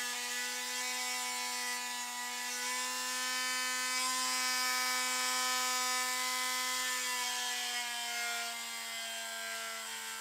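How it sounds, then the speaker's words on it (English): A rotary tool with a sanding bit grinds into the ankle indentation of an AxyToys dinosaur warrior toy, a steady high-pitched motor whine with a gritty rubbing edge, close and continuous, its pitch dipping slightly near the end. "I'm going to sand down a little bit more here in this indentation"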